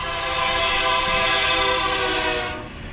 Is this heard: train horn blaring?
yes